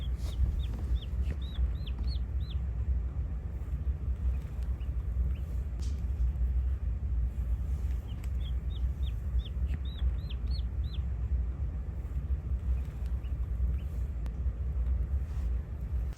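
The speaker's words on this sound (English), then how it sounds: "there's a baby pipping inside the egg" A chick pipping inside its egg gives small bursts of faint, high chirps, a quick cluster early on and another in the middle, over a steady low rumble.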